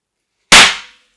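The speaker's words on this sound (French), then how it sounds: "Canon à confetti, on va voir ce que ça donne." A confetti cannon fired indoors in a bedroom: after a short silence, one loud sharp pop bursts out and quickly decays into a brief hiss.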